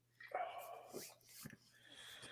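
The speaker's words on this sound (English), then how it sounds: "Hey, Richie, shut them dogs up, would you?" Dogs kept outside whimper with a high whine, then give a few short yips and barks, close and fairly quiet over a low hum.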